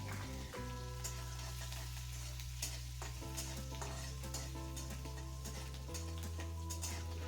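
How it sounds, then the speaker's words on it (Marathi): Green chilies fry in hot oil in a pan, a soft continuous sizzle with scattered stirring clicks over a steady low droning hum, fairly quiet and without speech. "हिरवी मिरची सुद्धा आपल्याला मस्त अशी छान तळून घ्यायची आहे"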